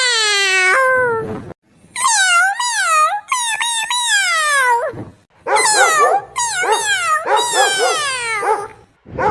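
A cat meows loudly and repeatedly, long drawn-out wavering cries close up, with brief pauses between bursts.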